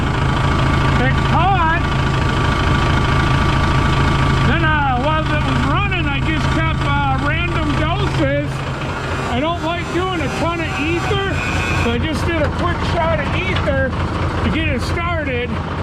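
The Cummins 855 diesel in an M818 truck idles after starting, a steady low rumble running throughout while a person talks over it at length.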